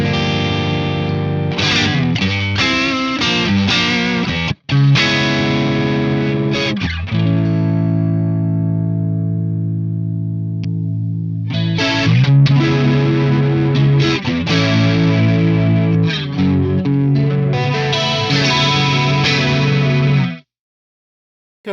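An electric guitar runs through a Pantheon effects pedal with a distorted, chorus-thickened 80s-style tone. Loud chords and a long sustained note ring out, followed by choppier strummed passages, then a sudden cutoff near the end.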